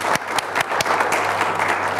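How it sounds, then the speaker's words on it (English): An audience at a gaming forum in Hyderabad claps loudly and continuously in a short, dense round of applause. "Please give him a round of applause."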